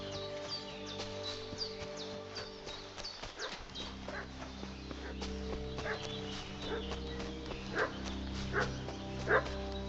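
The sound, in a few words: dog barking in Kingdom Come: Deliverance video game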